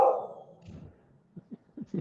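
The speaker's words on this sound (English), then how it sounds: "My dog wants out." A dog whines and yips to be let outside, starting with one louder opening cry and then a short run of soft, close, repeated whimpers and small barks near the end, with no talking over it.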